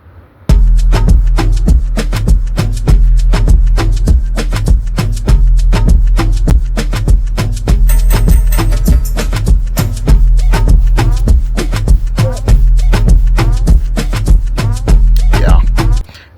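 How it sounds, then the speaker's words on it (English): Chopped Afrobeat drum sample built in BandLab over deep 808 bass: dense, fast percussion hits in a steady looping groove with heavy booming low end, loud and continuous for about sixteen seconds, without voices. "Right, so all together the drums sound like this."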